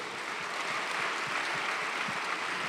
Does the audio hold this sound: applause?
yes